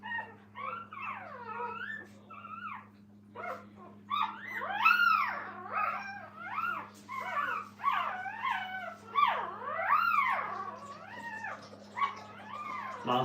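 Several puppies in a kennel whine, yelp and give rising little howls, overlapping in uneven bursts over a low steady hum. No one talks.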